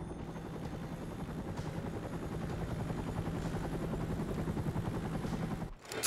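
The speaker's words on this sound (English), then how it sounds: "Where are you? On a helicopter?" In a Stranglehold video game cutscene, a helicopter's rotor thumps continuously and fairly loudly for several seconds, then cuts off abruptly near the end.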